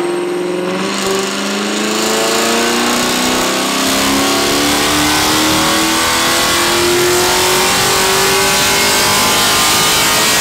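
A tuned Chevrolet Camaro on a dyno holds a loud, sustained rev, its engine note climbing steadily in pitch as it pulls hard through the run, close and unbroken.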